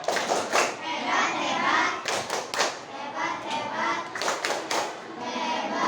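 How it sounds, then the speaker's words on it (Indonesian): A classroom of children claps a patterned group cheer for group 3 at an Indonesian school, with bursts of hand claps and thumps in a rhythmic sequence and children's voices mixed in, close and lively. "Tepuk tangannya untuk kelompok 3"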